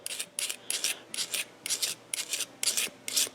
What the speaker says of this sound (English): basically just scrape all that green stuff all has to come off there